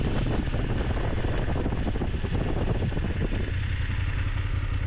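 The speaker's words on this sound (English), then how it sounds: "Ah, there they are, motorcycles." Steady engine rumble with wind buffeting the microphone, motorcycles running nearby, continuous and fairly loud with clattering texture throughout.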